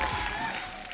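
An audience applauds as Nimrat Kaur, Yami Gautam and Abhishek Bachchan are welcomed on stage, a soft continuous wash of clapping with a faint tonal hum beneath, steady and somewhat distant.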